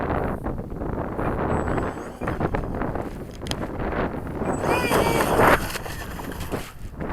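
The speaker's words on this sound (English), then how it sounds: "Hopefully this wind settled down a little bit." Strong wind buffets the microphone outdoors while a Freewing Seagull 64mm EDF glider flies in high wind, a loud, continuous rumbling roar with gusty swells and no voices over it.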